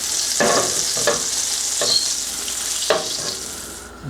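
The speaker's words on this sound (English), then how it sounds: "Back off on this heat a little bit so we get that butter melted." Butter melting with a little olive oil in a pan over reduced heat, a steady bright sizzle with a few scraping stirs and clanks, close and continuous.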